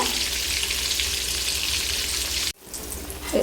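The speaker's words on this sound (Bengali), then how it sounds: "এখানে আমি বাকি মাছগুলো দিয়ে দিয়েছি এগুলো ভেজে সব তুলে নিব" Rohu fish pieces fry in hot oil with a dense, even sizzle up close; the crackle cuts off abruptly near the end before resuming more softly.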